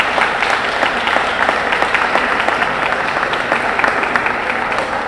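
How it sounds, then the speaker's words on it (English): Loud, sustained applause from a crowd at a college athletic banquet honoring student athletes, many hands clapping continuously with a thick, even texture throughout. "That deserves applause."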